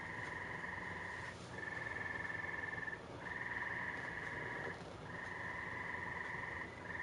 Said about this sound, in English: I could shoot every one of them damn frogs